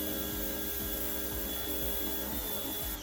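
A Blue Clean BC2N1HSS electric pressure washer (2300 PSI, 1.7 GPM) runs with its turbo nozzle held close to a surface, giving a steady electric motor hum and a constant hissing spray.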